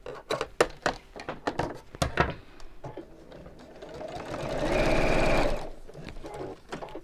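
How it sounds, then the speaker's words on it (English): A sewing machine stitches straight lines in quick, close bursts of rapid needle ticking, then settles into one longer, louder continuous run before trailing off. "At least you're sewing straight lines"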